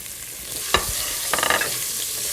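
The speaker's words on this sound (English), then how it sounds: "let's stir fry these for about a minute or 2. These are quite small florets of cauliflower" Small cauliflower florets with turmeric are stir-fried in a hot pan: a steady sizzle broken by a sharp clatter and a quick run of scraping tosses, close and loud, no voices.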